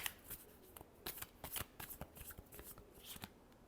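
A deck of tarot cards gets a final shuffle by hand, a quick series of crisp riffling flicks and slaps, close and quiet with no talking.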